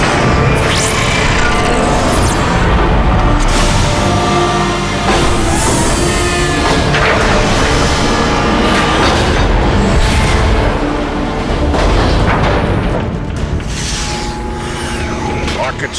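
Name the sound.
long-range artillery firing in Transformers: Fall of Cybertron video game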